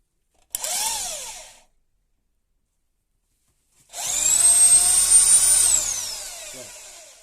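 Two bursts of a power drill boring into a wooden handle: a short whine spinning up and down, a pause, then a longer, louder high-pitched drilling run that winds down.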